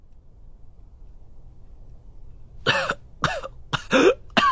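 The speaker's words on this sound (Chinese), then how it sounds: "鹦鹉殿内一阵惊心的咳嗽声响起，久久未有停歇" A series of hoarse, deep coughs bursts out after a long near-silent stretch, four or five harsh fits in close succession, near and loud, as part of an audiobook drama.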